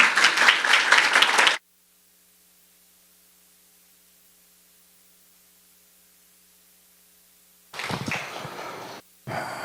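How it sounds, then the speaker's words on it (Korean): A congregation applauds at a Sunday church service to welcome an elder pastor: a loud burst of clapping, a long near-silent stretch with faint hum, then clapping returning in two short bursts. "유광신 목사님 나오실 때 우리 큰 박수로 환영해 주시면 감사하겠습니다"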